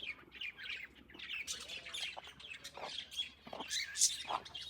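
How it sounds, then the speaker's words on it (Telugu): Birds squawking during an outdoor outing, repeated harsh calls and chirps in irregular bursts from several birds, moderately close with no talking. "ఇక్కడ బర్డ్స్."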